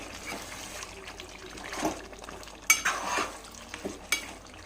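Chicken curry being stirred in a pan over a medium flame, a utensil scraping and clinking in a few close, uneven strokes over a soft sizzle, with no talking.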